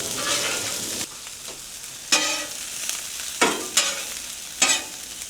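Rice and vegetables fry on a hibachi griddle, a steady close sizzle broken by several sharp bursts of scraping and stirring as spatulas turn the food.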